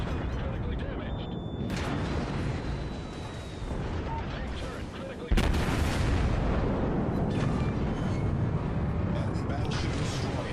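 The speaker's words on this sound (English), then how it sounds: "Enemy battleship destroyed" Dense, continuous naval gunfire and explosions from a World of Warships battle as an enemy battleship is destroyed, with a sharp loud burst midway, heavy rumbling booms throughout and speech mixed in over the din.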